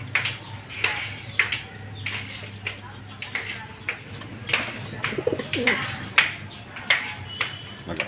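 Racing pigeons at a loft give repeated soft cooing calls in an irregular rhythm, mixed with occasional chirps against a low steady background hum.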